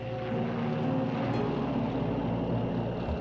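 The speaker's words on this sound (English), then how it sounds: "A plane flies in low," Propeller airplane flying low over the Burma jungle, a steady droning engine roar with a deep tonal hum, sustained and fairly loud throughout.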